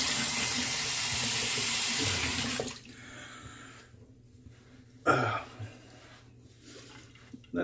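Water runs from a sink tap for a couple of seconds during a rinse after a Shavette razor shave, then stops, leaving quiet room tone with a few soft splashes and movements.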